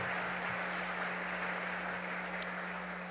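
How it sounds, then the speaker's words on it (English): Applause from an audience honoring trustees at a college pep rally, a faint, even patter of clapping heard from a distance, with a steady low hum underneath and one sharp click near the end. "they are certainly deserving of our applause"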